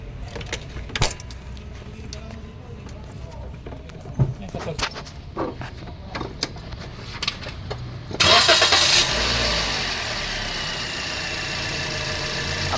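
A Toyota Vios car engine, one with a noisy motor, is cranked over and catches midway with a loud start, then settles into a steady idle, after quieter clicks and rattles under the hood.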